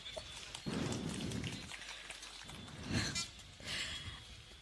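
Rain falls over an outdoor political campaign gathering for the Vikravandi by-election, a soft, steady, faint hiss with a few swells and a low background murmur.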